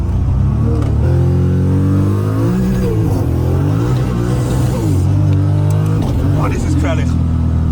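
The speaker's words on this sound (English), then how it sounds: "Also ich habe gerade bis zum 6. Gang eigentlich Wheelspin drauf gehabt." A 1000-horsepower Toyota Supra on a wet Nürburgring track revs hard with wheelspin, a loud, sustained engine roar rising and falling in pitch through gear changes while someone talks over it.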